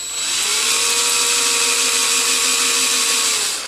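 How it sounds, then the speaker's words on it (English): A hand drill bores a hole in wood for a turned snowman, giving a steady, close whirring whine that holds evenly for a few seconds and then cuts off. "And then I'll hand drill"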